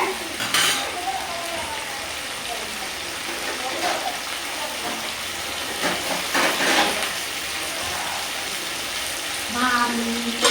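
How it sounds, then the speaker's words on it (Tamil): Vegetables for a Tamil kuzhambu sautéed and stirred in a pan, a steady soft sizzle with scraping spoon and clinking utensil contacts scattered throughout, close and moderately loud. "இப்போ இதை வந்து நல்லா வதக்கி விட்டு ஒரு 2 நிமிஷம் அப்படியே மூடி வைங்க"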